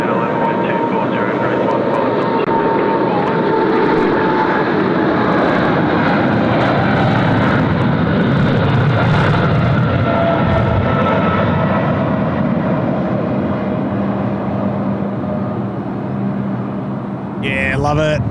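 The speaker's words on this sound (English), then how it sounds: "we'll enjoy the beautiful 777 about to roll past here" A Boeing 777 airliner rolls past on its takeoff run, a loud, continuous engine roar and rumble that builds and holds steady throughout, close by.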